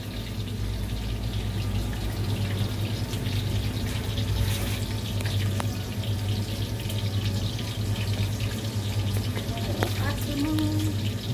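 Thai-style chicken wings fry in a pan while being flipped until brown, giving a steady, even sizzle that holds at a moderate level with a few faint clinks of utensils.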